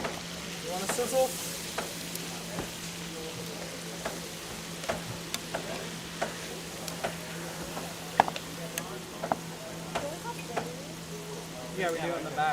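Food sizzles steadily in a pan during a culinary competition, a soft continuous fry with scattered pops and utensil clicks close to the pan.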